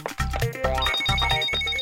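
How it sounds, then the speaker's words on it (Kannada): A cartoon telephone rings in a repeated electronic ringtone pattern, about four even bursts, loud and close, with no talking over it. "ಅಯ್ಯೋ, ನಿನ್ ಫೋನ್ ಈಗ್ಲೇ ಬಡ್ಕೋಬೇಕೇನೋ?"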